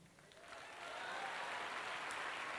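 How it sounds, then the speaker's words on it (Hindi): An audience at an anniversary event applauds steadily, a dense wash of clapping that swells within the first second and holds loud and even. "एक बार फिर से आपने मेरी मां के लिए तालियां बजाई"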